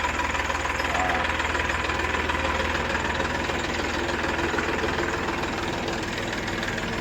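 A tractor engine runs steadily with a loud, continuous chugging rumble as it pulls away on a farm, with no speech over it.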